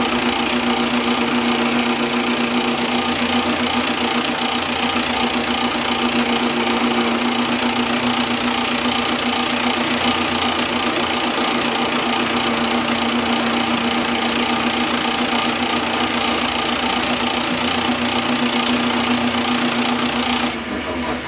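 A diamond wheel mounted on a lathe grinds a carbide lathe bit with a loud, continuous buzzing drone and gritty grinding, holding steady throughout and easing off only at the very end.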